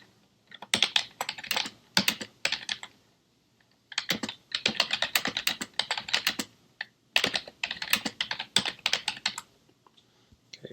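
Typing on a computer keyboard, three bursts of rapid, close keystrokes separated by short pauses, clear and alone with no talk.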